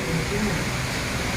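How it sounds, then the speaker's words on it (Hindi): An audience at a BJP block committee meeting claps loudly, a dense and steady wash of applause filling the room. "जोरदार तालियों के साथ इनका स्वागत करें।"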